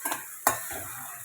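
Chopped onion drops into a hot pan with a sharp clatter and a burst of sizzle, then a quieter frying hiss and a couple of utensil taps, brief and close.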